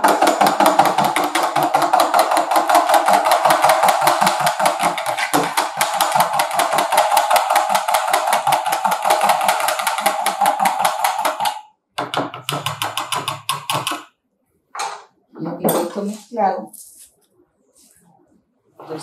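Sweet Venezuelan bread ingredients, including honey, being mixed in a bowl: a fast, steady rhythmic tapping and scraping for about twelve seconds, then a few shorter bursts of handling noise with pauses.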